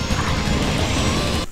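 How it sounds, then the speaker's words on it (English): A racing car in F-Zero X on the N64 scraping hard along the track railing, a loud continuous grinding crash for over a second, cutting off abruptly. "Stop bumping into the railing."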